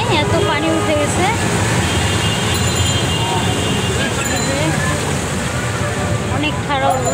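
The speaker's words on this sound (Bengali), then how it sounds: "গাড়ি ঘুরে চলতে পারতেছে না পানির কারণে, এত পানি উঠে গেছে" Vehicles stuck on a rain-flooded street in Dhaka churn through deep water, a loud, constant roar of engines and sloshing water with traffic noise all around.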